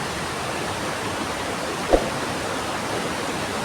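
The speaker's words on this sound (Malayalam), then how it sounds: "ദൂദ്സാഗറിൽ നിന്ന് ഒഴുകി വരുന്ന വെള്ളമാണ് ആ കാണുന്നത്" Small streams flowing down from Dudhsagar waterfall make a constant, even hiss of running water, fairly faint, with a single brief knock midway.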